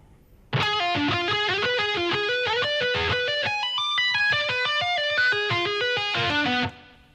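Distorted electric guitar plays a song's solo at slow tempo, a quick run of picked notes with hammer-ons and pull-offs, close and steady, alone without talk.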